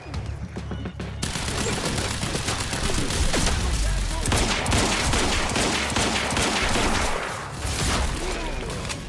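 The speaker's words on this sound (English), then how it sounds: "getting shot at by everybody else who is not frozen in time" Dense, sustained gunfire in the video game Quantum Break, many weapons firing together in a dense, overlapping barrage that runs nearly without pause, loud and close throughout.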